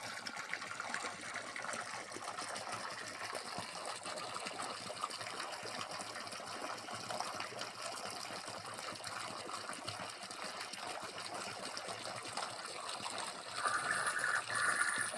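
Water pours forcefully into a tilapia fish pond to aerate it, giving a steady, dense rushing splash that continues without a break and swells a little louder near the end.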